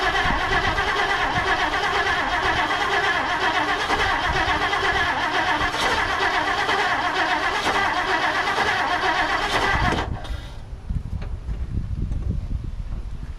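A 1959 Plymouth Savoy V8 fitted with a cheap aftermarket carburetor runs with a loud, rough, steady engine drone close by for about ten seconds, then cuts off abruptly, leaving quieter low rumbling.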